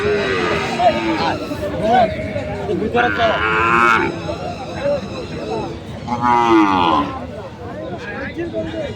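Sahiwal bulls and calves mooing at the Ambari cattle market, several drawn-out moos rising and falling close by over a steady hum of crowd chatter and talk.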